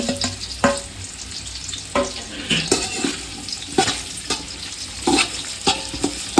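Small cucumbers and onions sautéing in a pan for a chicken biryani meal, a close sizzle broken by repeated sharp scrapes and knocks of a spoon stirring at an irregular rhythm, with no voices.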